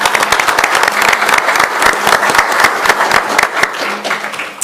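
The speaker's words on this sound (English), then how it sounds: "and we'll give them a round of applause." A crowd at a city council meeting gives a loud, dense round of applause that holds steady from start to finish.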